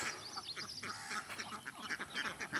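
Ducks on a farm quacking in a busy, overlapping chorus, many birds calling at once, moderately near and fairly faint, with no one talking.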